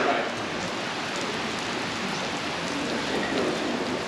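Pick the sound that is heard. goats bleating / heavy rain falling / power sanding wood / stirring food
heavy rain falling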